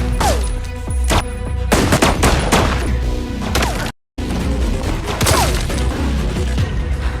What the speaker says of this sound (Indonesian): Baku tembak terjadi sampai peluru habis.